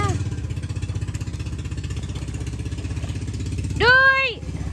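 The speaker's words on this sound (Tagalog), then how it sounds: "Aw, may makina." A steady low boat engine drone runs throughout, with a rising and falling whistle-like tone near the end.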